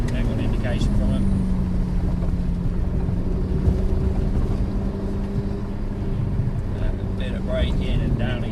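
Supercar engine droning steadily at high revs on a race track, loud and continuous with wind rush, while an instructor talks over it throughout.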